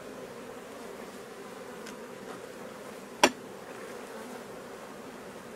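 A continuous buzz of many honey bees at a crowded hive during summer honey harvest, with one sharp knock partway through.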